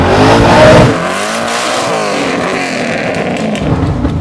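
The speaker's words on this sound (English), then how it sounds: "I've never done a standing still burnout in this car, ever." A 1500-plus horsepower twin-turbo 1969 Camaro pro touring build revs hard during a standing burnout, a loud, close engine roar that climbs in pitch, surges, then holds a raspy, wavering drone.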